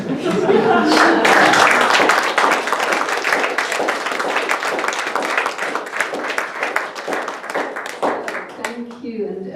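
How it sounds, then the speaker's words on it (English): An audience at a literature open mic night at the Octagon Theatre applauds the readers with dense, sustained clapping that fills the room and slowly thins out toward the end. "keep clapping for all these people that we've heard read"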